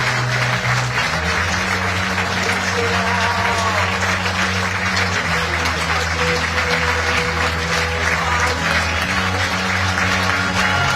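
A large stadium crowd at a rugby inter-district championship final applauds steadily and loudly for the whole stretch, with low music humming underneath.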